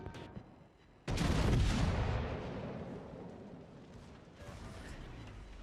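Naval guns firing in World of Warships: Legends, a sudden loud booming salvo that rolls and decays over several seconds, with softer distant rumbles afterward.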